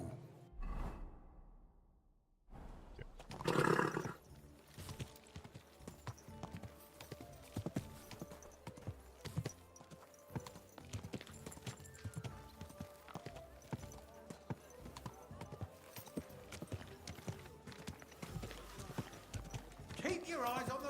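Horse hooves clip-clop steadily along a road in the medieval game Kingdom Come: Deliverance II, a long rhythmic run of hoof strikes mixed with a brief whoosh and voices talking over it.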